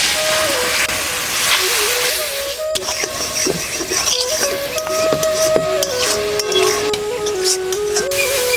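A little water poured onto hot chilli, turmeric, coriander and cumin masala in a pan sets off a loud, continuous hiss and steamy sizzle, with scraping stirs and a few clinks through the sound and no talking.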